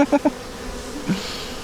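Bees buzz while a Ukrainian hive is being worked, a close, steady swarm hum with a few short louder pulses at the start.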